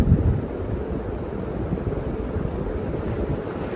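A vintage 1990s Encon Contempra Supreme Hugger ceiling fan running on high speed gives a steady, broadband whooshing rush of moving air, close and even throughout, with no voices.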